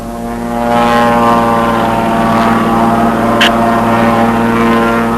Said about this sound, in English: That's a circling takeoff.